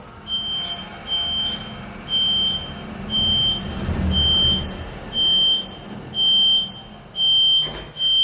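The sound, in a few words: IDD traction machine beeping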